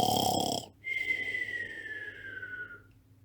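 A voice imitates snoring: a harsh snort, then a long whistling exhale that gradually fades away.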